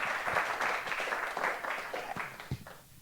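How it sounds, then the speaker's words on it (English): An audience at a literary weekend in Port Fairy applauds two authors, a moderate, steady patter of many hands at some distance that thins and fades toward the end. "please give Michael and Wayne a round of applause"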